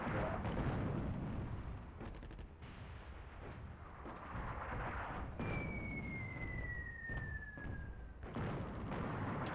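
Artillery fire in the WWII strategy game Attack at Dawn: North Africa, set at the First Battle of El Alamein: dense rumbling booms and blasts throughout, with a long descending whistle-like tone sweeping down midway.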